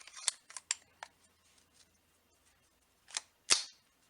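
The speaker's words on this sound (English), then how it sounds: "pulling the trigger in a safe direction and holding it, racking the slide, and making sure the trigger resets" A Browning Buckmark pistol loaded with a snap cap gives sharp metallic clicks as the trigger is pulled, then a louder mechanical rattle as the slide is racked, close and quiet with no talking.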